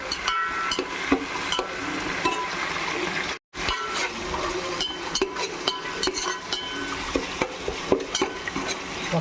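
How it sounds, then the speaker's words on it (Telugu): Mint leaves sizzle in hot oil in a pan for veg pulao, a steady close frying hiss broken by frequent scrapes and clinks of stirring, with one brief silent gap partway through. "పుదీనాకు కొంచెం బాగా ఫ్రై కానిద్దాం."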